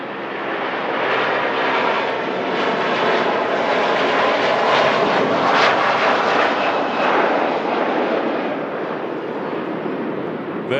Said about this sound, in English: Virgin Atlantic Airbus A330 departed Manchester area. Mega sound from that.